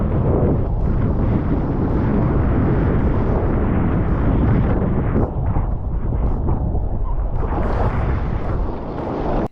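Strong, constant wind at a kitesurfing session roars and buffets the microphone, a loud, unbroken rush with no voices.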